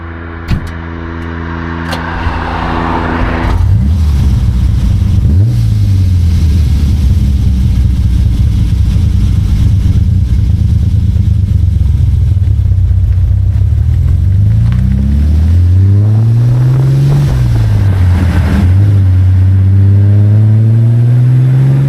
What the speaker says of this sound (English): perfectly tuned Ferrari V12